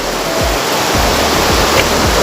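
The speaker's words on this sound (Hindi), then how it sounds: "पानी तो बहुत अच्छा आ रहा है" Rushing water of a stream in Kashmir flows steadily and loudly, a continuous close broadband roar with no voices over it.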